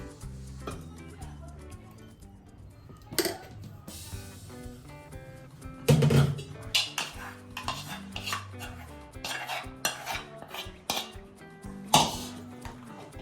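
Pots, a steel pan and plates clink and clatter in a home kitchen while dhokla batter is readied for steaming, with irregular knocks and scrapes and a few sharper bangs near the microphone.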